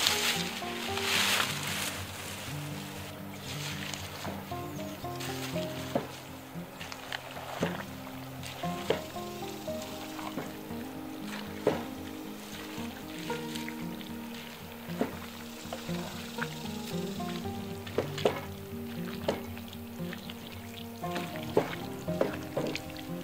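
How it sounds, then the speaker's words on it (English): Beeswax heats and melts in a pot, a steady close bubbling and sizzling with frequent soft pops and crackles running throughout. "While that's all heating up and melting"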